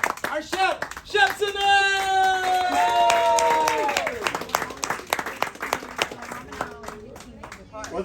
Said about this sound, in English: Linda, round of applause, everyone